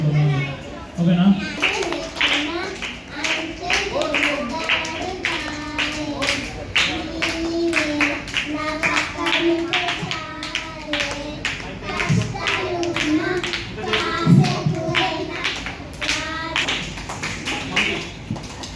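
A martial arts training group claps together in a fast, steady rhythm of sharp hand claps throughout, with children's voices and chatter mixed in.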